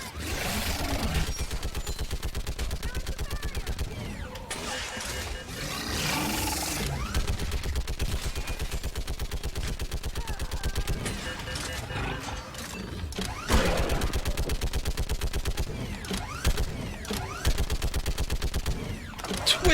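Sustained gunfire in a Mass Effect 3 battle, with rapid automatic bursts rattling almost nonstop alongside heavy mechanical and battle noise, loud and dense throughout with brief dips.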